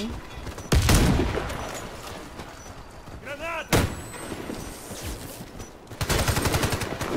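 Gunfire in the online shooter CrossFire, loud bursts of automatic rifle fire with short single shots between them, heard under a player's talk and game sounds.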